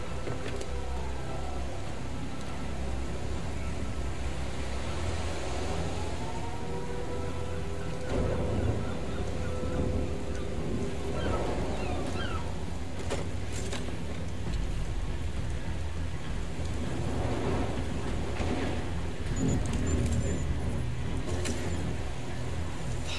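Steady rain and low rumbling thunder in the video game The Division 2, a continuous wash of rainfall with distant rolls underneath, while faint in-game voices and effects occasionally surface.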